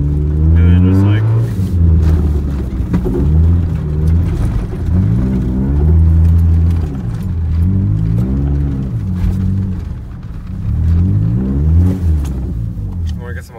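A front-wheel-drive car's engine revs hard and steadily while drifting, its loud, continuous drone rising and falling under constant talking from the people in the car.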